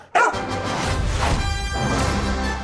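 A dog barks once sharply near the start, followed by a sustained scrappy burst of noise and commotion from an animated superhero-pet film trailer, close and loud.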